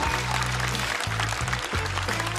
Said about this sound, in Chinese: 掌声送给